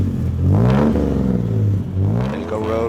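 A 1973 Chevy Chevron coupe's 250 Plus engine with Holley carburetor and performance exhaust revs up twice, rising and falling in loud, close, throaty swells.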